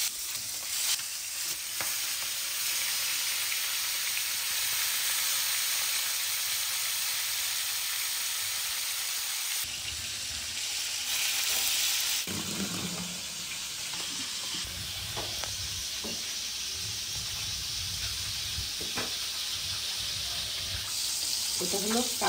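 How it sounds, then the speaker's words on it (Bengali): River fish fry in oil in a pan with a loud, continuous sizzle and hiss, interrupted by scraping stirs and clatter partway through, and turning steamier toward the end. "আর এক পাশে মাছ ভাজা হবে।"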